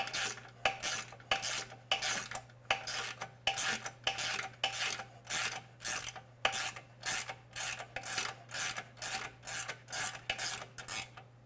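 Bolts are tightened during final assembly of a VRS 11 frame, producing a close, steady series of rasping ratchet strokes, roughly two per second, repeated many times over a low background hum.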